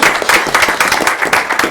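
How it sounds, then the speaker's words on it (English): Loud, dense applause fills a school district board meeting for two honored staff members, a close burst of many hands clapping with no voices over it. "So I want to personally stand up and applaud Cheryl Watson"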